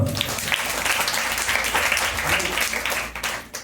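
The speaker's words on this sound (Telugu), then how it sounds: "గట్టిగా చప్పట్లు కొట్టు" Sustained applause from a church congregation at a Sunday worship service fills the room, steady for several seconds before tapering off at the end, with some voices mixed in.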